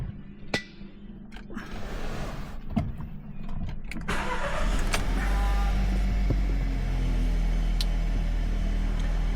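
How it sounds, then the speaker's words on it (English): A 2015 VW Polo being started: a few clicks and a cranking whir, then the engine catches and settles into a loud, steady low idle, close by with no talking. "Let's start the vehicle up."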